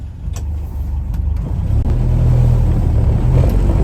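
A Land Rover Series 3 engine running while driving, a loud low rumbling drone close up that builds slightly as the vehicle gets under way, with a few light clicks and rattles on top.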